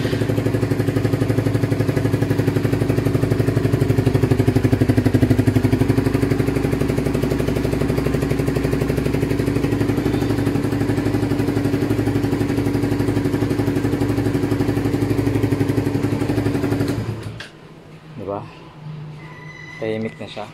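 A Raider150 FI motorcycle fitted with an HGM pipe and silencer idles with a loud, steady exhaust drone for most of the stretch, then cuts off near the end.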